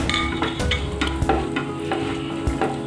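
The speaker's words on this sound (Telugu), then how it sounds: "ఇప్పుడు మనం కిస్మిస్ వేసుకుందామండి." Raisins, cashews and almonds fry together in a pan for moong dal payasam. A steady close sizzle is broken by repeated scraping stir strokes, with no talking.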